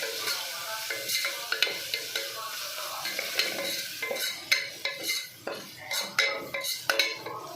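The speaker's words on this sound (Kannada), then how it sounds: "ಜಜ್ಜಿರೋ ಗಾರ್ಲಿಕ್ಕು, ಇಂಗು ಸ್ವಲ್ಪ ಹಾಕೊಂಡು ಚೆನ್ನಾಗಿ ಫ್ರೈ ಮಾಡ್ಕೋಬೇಕು" Crushed garlic and asafoetida with onion frying in a pan for a Kannada-style beans palya, a steady sizzle broken by frequent close scrapes and clinks of a stirring spoon against the pan.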